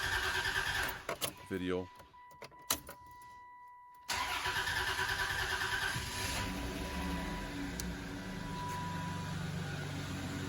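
Dodge Intrepid engine cranking and catching after a fuel filter installation, a brief stuttering crank then a sudden start into a steady close idle, with someone talking over the early part.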